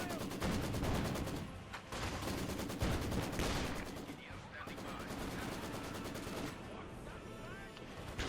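A Maxim machine gun opens fire in Company of Heroes 2, its rapid rattling bursts set in a dense wash of battlefield gunfire and explosions that runs throughout at moderate level.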